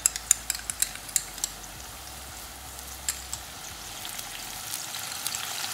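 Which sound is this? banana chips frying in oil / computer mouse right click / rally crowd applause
banana chips frying in oil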